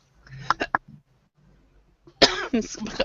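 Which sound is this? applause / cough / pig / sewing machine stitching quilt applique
cough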